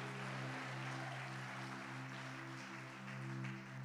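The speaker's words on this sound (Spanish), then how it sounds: "dale un aplauso a Dios" A church congregation applauds during a sermon, a dense, steady patter of clapping that fills the whole stretch over a sustained keyboard pad.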